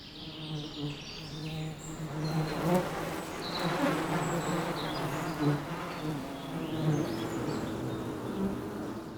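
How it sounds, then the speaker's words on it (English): Dense, steady buzzing of a large, overcrowded wild honey bee colony inside a cramped hive, a warm humming drone with a few higher chirps over it, continuous throughout. "The bee colony is getting ready in its cramped hive."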